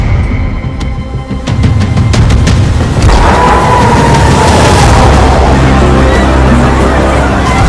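A missile attack explosion in Tel Aviv: a loud, deep boom swells around three seconds in and rolls on as a sustained rumble, with a few sharp pops and cracks before it.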